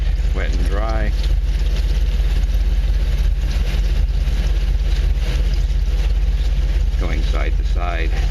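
A Mercedes idles with one aluminum wheel spinning for 1000-grit wet sanding, giving a steady, loud mechanical drone with a constant whirr throughout, while someone talks briefly over it near the start and end.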